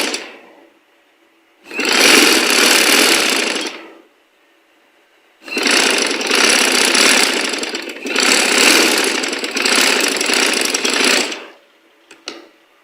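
A sewing machine runs a double line of stitches along folded fabric strips for a shalwar design, sounding in three loud sustained bursts separated by short pauses, with no talking.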